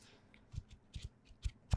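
A new tarot card deck being shuffled by hand, a series of soft, close riffling and flicking bursts in an irregular rhythm over quiet background, with no talking.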